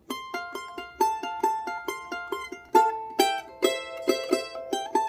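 Charango strings pick out the following phrase of Virgenes del Sol, steady repeated plucked notes building to fuller strummed chords near the end, played up close and solo.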